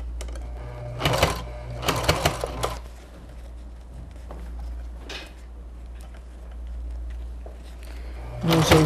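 A sewing machine stitches bias binding onto a patchwork makeup pouch in several short bursts of rapid clatter, with quieter pauses between runs while the fabric is adjusted.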